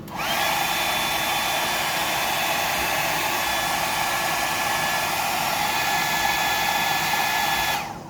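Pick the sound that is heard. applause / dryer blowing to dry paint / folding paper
dryer blowing to dry paint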